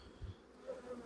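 Honey bees hum softly among hive frames on a queen excluder during a colony check, a faint, brief buzz with a low bump near the start.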